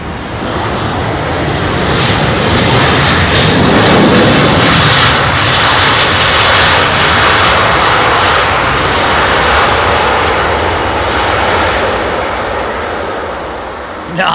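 A Boeing 737 with CFM56 engines landing on runway 27R at London Heathrow roars loud and close, a broad sustained jet rumble that swells and holds steady for the whole stretch, with faint talk beneath it.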